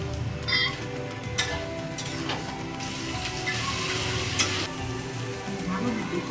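Potatoes sizzling and frying steadily in a pan, with a few spoon stirs and scrapes breaking through the continuous hiss; no voices.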